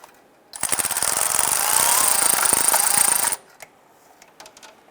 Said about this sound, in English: I'm going to go ahead and tighten down the upper bolt now.